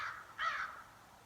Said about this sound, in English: Those crows are very noisy.